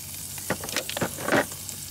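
Oil sizzles steadily in a hot pan while a cheesesteak is being cooked, a constant close hiss with a few louder crackling spurts and pops.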